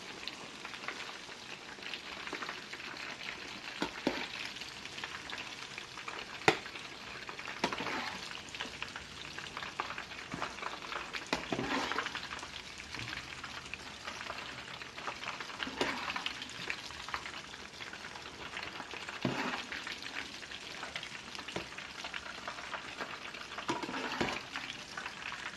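Pieces of chicken for General Tso's chicken fry until crisp in hot oil, giving a steady, dense sizzle with occasional stirring and scraping, no talk.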